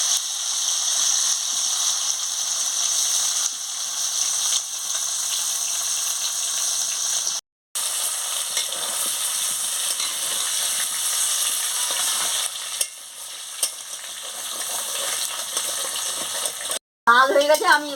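Meat and purple yam fry in a pan with a steady, dense sizzle that hardly changes, broken by two brief gaps where the pan noise cuts out; a short clatter or stir sound comes at the very end.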